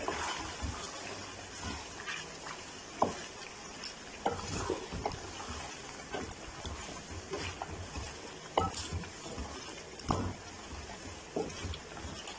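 Cream being stirred into balti gosht in a pot, quiet wet stirring and scraping with a low simmering sizzle, punctuated by a few sharp spoon knocks against the pot.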